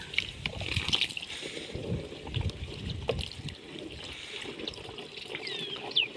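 Water trickles and splashes softly as it is added to a pesticide spray mix for a tomato plot, a quiet, continuous dribbling outdoors with faint rustling.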